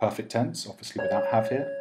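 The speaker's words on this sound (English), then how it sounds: "Sorry about the bell buzzing there" An electric doorbell buzzes with a steady sustained tone partway through, sounding under continuous close speech from a man giving a Latin grammar lesson.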